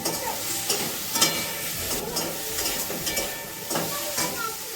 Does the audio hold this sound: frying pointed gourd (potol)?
yes